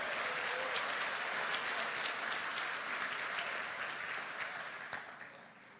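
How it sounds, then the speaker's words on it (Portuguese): A church congregation applauds in a thick, even roar of many hands that holds steady and then fades away toward the end. "Você pode dar um aplauso ao Senhor por isso?"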